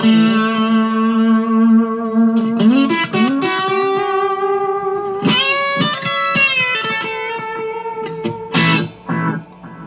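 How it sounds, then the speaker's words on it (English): Electric guitar played through an analog delay pedal in a budget rig setup, sustained notes and chords ringing with repeating echoes trailing behind, loud and close with a quick delay time. "when you heard the delay on this, that would be two totally different types of delays"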